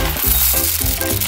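Coffee beans crunch and rattle in a manual hand grinder in a home kitchen, the rhythmic grinding strokes repeating about every third of a second, close and clear.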